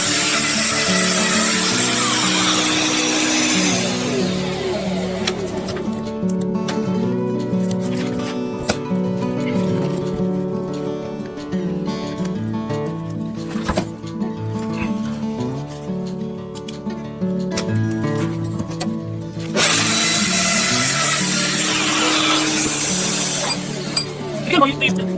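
A Festool Domino 700 XL cutting stacked mortises into the end of a wooden gate rail, a loud whirring cut at the start and again near the end, with quieter handling clinks and talk in between.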